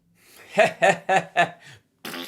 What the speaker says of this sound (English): I do the lean away when I fart or whatever